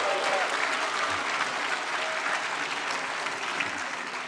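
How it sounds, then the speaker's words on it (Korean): A church congregation at a teachers' dedication service claps together in a loud, steady burst of applause that holds throughout, with faint voices underneath. "여러분 누군지 알고 박수 치시는 거예요?"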